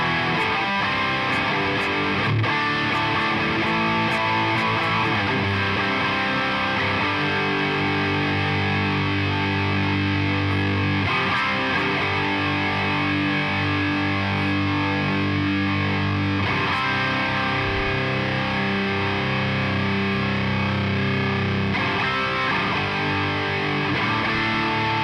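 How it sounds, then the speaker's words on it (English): A thick wall of heavily distorted amplified guitar drones loudly and continuously, with low sustained chords and a constant buzzing roar. "You hear this wall of rad distortion?"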